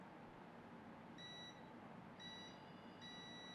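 Three short, thin electronic beeps from a multimeter continuity test on a mobile phone circuit board component, faint and high over a low steady hiss.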